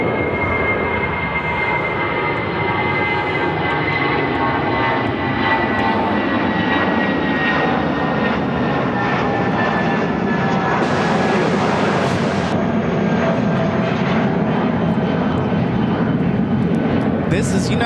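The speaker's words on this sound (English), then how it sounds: "1448 taking off to Buffalo on the A319" A United Airlines Airbus A319 jet takes off from Chicago O'Hare bound for Buffalo, a loud continuous engine roar and rumble that builds and shifts pitch as it climbs, dominating the whole stretch.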